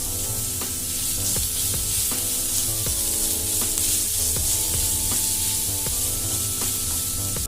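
Capsicum and black pepper fry in a hot pan, giving a loud, steady sizzle with faint clinks of stirring throughout, no voices.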